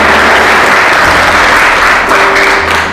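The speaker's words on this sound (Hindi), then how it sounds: "ताली बजाकर प्रभु की महिमा करें।" A church congregation claps loudly and continuously in praise during a worship service, a dense, sustained wash of applause filling the space with no clear single voice above it.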